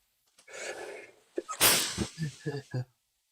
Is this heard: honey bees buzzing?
no